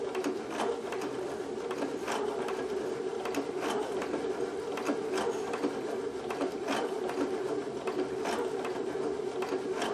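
A sewing machine stitching custom placemats runs continuously at close range, a steady rapid chatter of needle strokes with a constant motor hum, while the bobbin thread is tangling.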